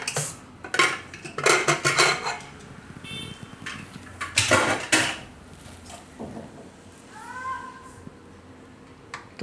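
A pressure cooker of boiled raw bananas is taken down and opened in a home kitchen, with several sharp metallic clanks and clatters of the lid and pots between quieter stretches.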